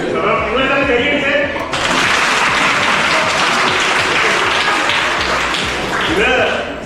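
A college audience at a freshers' day magic show breaks into loud, dense applause that swells and holds for several seconds, with someone speaking through a microphone before and during it.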